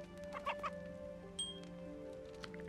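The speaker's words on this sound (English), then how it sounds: "Oh, here's a chicken." A chicken in the Roblox video game gives a quick burst of soft clucks over quiet, steady game background sounds.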